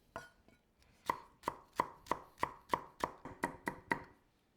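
Knife chopping herb stems on a cutting board for Hakka egg dumplings: about a dozen crisp, evenly spaced chops in a quick steady rhythm, close and clear, with no talk.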